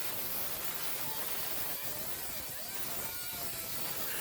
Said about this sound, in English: And now I've switched over to a flap wheel.